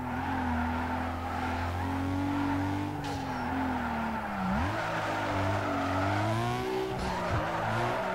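Engine drone and long tire squeals from a car drifting around a large drift track in Need For Speed Underground 2, with sliding pitch shifts and skids continuing steadily throughout.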